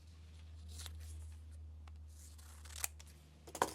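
Scissors cut through paper in a quiet room, a mostly steady soft rustle that ends in a few sharp snips, close by, under a low constant hum, with no talking.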